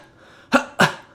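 A person coughs twice after holding the breath, two short, sharp, close bursts about a quarter second apart, loud against near silence.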